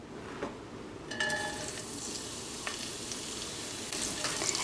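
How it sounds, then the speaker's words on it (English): Cabbage dropped into heated oil sizzles and fries steadily up close, with a few scraping stirs and clinks over the continuous hiss. "and cook the cabbage for about 2 to 3 minutes"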